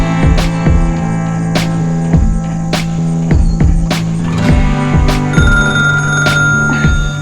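A telephone rings insistently in close, regular bursts, a bright metallic bell tone repeating over a steady hum.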